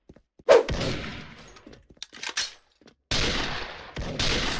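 MSG-90 DMR sniper rifle firing in Special Force, a sharp close shot followed by scattered clicks and handling noise, then two more loud reports with a lingering tail.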